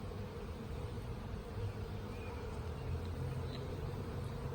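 Honey bees buzz in a continuous, dense drone around a nucleus hive, close and steady throughout, with no talk over it.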